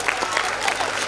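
Crowd applause at an abacus competition award function, a continuous dense clatter of many hands filling a hall, with a voice faintly cutting through the clapping.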